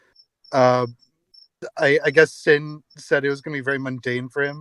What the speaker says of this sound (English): There's a cricket outside.